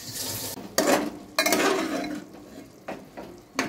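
Mutton keema is sautéed on low heat for ghoogni, heard as intermittent bursts of stirring and frying with pot and spoon clatter separated by quieter gaps.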